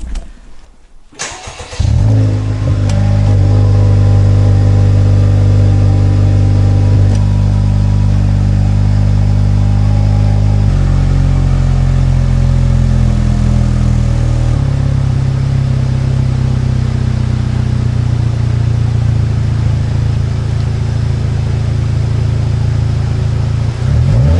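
An FL5 Honda Civic Type R engine with a Magnaflow exhaust and added resonator cranks and catches, then settles into a loud, deep idle with a throaty exhaust rumble that steps down slightly as it warms.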